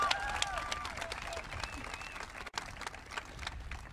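An audience applauds at the Empire High School 2023 graduation ceremony, steady scattered clapping across a crowd with a few cheers and whistles, fairly distant.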